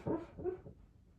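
A dog gives a couple of short, soft whimpering yelps close by, fading quickly into quiet.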